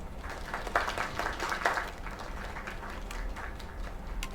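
Video game crowd applause: a short ripple of clapping at low level, swelling briefly and then thinning out.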